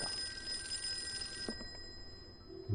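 A telephone bell rings in the Call of Cthulhu video game, a steady electronic ring that stops partway through and leaves low room ambience, with a soft low thump near the end.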